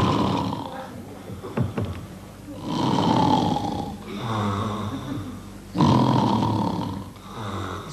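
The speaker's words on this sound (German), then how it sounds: "Schnarch wie ein junger Gott jetzt." A man snores loudly in a 1978 German stage comedy, with long rasping, roaring breaths that repeat in a slow, steady rhythm, close and dominant throughout.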